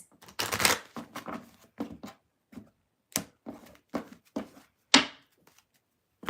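Tarot cards are shuffled in repeated short riffling bursts with brief pauses between them, close and fairly quiet, with no talking over them.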